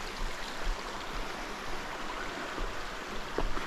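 Clear creek water running past a log crossing on the Mineral Creek Trail, a steady broadband rushing and burbling that stays even and fairly close throughout, with no voices over it.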